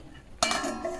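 A metal lid lands on a pot of paneer biryani with a single sharp clink, followed by a short ringing rattle as it settles, close and fairly quiet.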